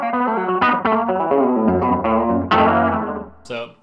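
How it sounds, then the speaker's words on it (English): Electric guitar played through a Keeley Ecos delay pedal on a slapback setting, a busy, continuous run of chords and notes with a short doubled echo and some grit, loud and close with no talking. "It's a beautiful delay pedal, also doubles as a looper. Right now I have it set up as a slapback"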